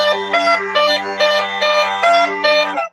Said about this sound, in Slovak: keď mám všetky dierky zakryté a tu hrám melódiu, tak nám to znie takto.